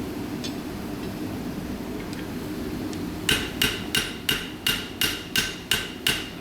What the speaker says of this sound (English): when you smooth it out with the hammer